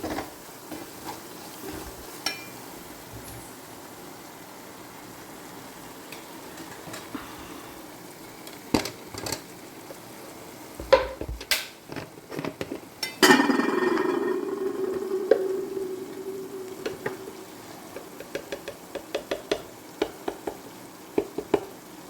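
Masala for beef curry browning slowly in a pan over a low flame, a soft continuous sizzle broken by scattered clinks and scrapes of stirring, with a fuller burst of frying midway.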